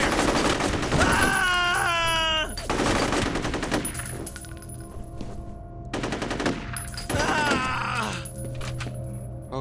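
Rapid automatic gunfire bursts from the FEAR shooter game, loud and close in repeated volleys with short gaps, alongside wailing, cry-like tonal sounds.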